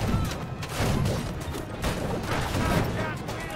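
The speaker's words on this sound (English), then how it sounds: "What are these guys shooting at?" Shooting in Conqueror's Blade, a medieval siege-battle game, comes through as dense, continuous clattering gunfire and battle din that stays busy and loud throughout, with no distinct pauses.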